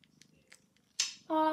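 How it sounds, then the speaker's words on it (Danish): Newborn kittens heard up close in a quiet room: soft rhythmic purring and faint scratchy movement, then a short high squeak and a louder, sustained tonal meow at the end. "min kat Lillebitte har fået killinger"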